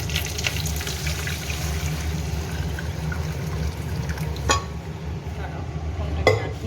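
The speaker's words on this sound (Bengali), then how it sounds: "কারিয়া পাতা আর কালো জিরা দিয়ে এটা যেহেতু মটর ডাল ওই জন্য ডালটা দিয়ে দিচ্ছি" Split pea lentils dropped into a hot pan with curry leaves and black cumin, giving a steady low sizzle and stirring scrape with a couple of sharp clatters, close and fairly loud.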